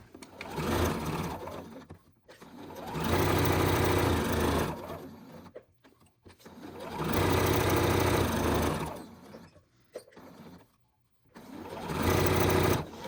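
A sewing machine stitches fabric for rag coasters in three long, steady runs, a close whirring hum with brief pauses between them.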